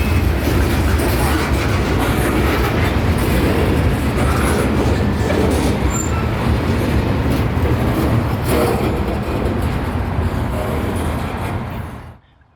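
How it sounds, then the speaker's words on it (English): Freight train 0709 leaving Tampa with freight cars, a loud continuous rumble of rolling cars with rhythmic clacking close by, holding steady for about eleven seconds before cutting off abruptly. "This train is leaving Tampa with freight cars bound for customers near Plant City."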